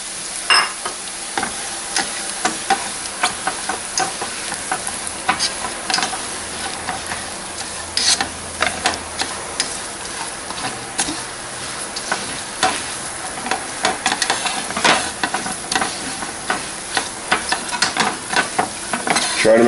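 Spices frying in oil over medium heat, crackling and sizzling continuously with dense, irregular pops and clicks close up, alone for nearly twenty seconds.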